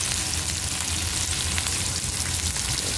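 Onion and garlic powder fry in a pan, giving a dense, steady sizzle that stays close and even throughout with no talking over it.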